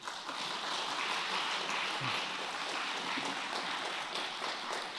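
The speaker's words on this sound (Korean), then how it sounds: "박수 한번 부탁드리겠습니다" Applause from an audience at a church leadership retreat, a steady wash of clapping held at an even level through the whole stretch, with no voices heard above it.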